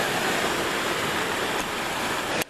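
Ocean waves break along the rocky shore below Pebble Beach, a loud, steady roaring wash that eases slightly midway and cuts off abruptly at the very end.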